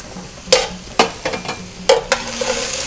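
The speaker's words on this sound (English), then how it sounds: "I've got my sofrito going here, and you can see it's starting to heat up there." Sofrito sizzles and fries in a hot pan under a steady crackle, while sharp clinks and scrapes of stirring cut in several times up close. No voices are heard.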